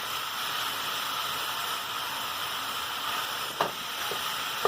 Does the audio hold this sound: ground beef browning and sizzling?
yes